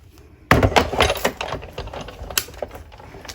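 A Big Shot die cutting machine cranked by hand as it presses dryer sheets and metal shim through, producing a sudden start then close, rapid clattering and ratcheting clicks that taper off.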